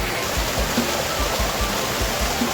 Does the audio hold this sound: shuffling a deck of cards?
no